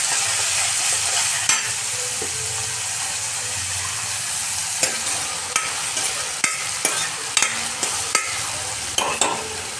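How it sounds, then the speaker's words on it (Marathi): Chopped onion and tomato stir-fry in oil with salt, giving a continuous close sizzle punctuated by repeated sharp scrapes and taps of a spoon against the pan, growing more frequent toward the end. "छान तेलात परतून घ्यायचं."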